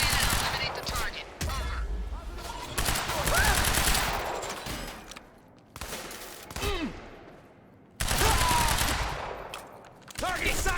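Heavy gunfire in the Battlefield Hardline industrial area: loud sustained bursts of automatic fire with short pauses between volleys, close and dense, mixed with game effects.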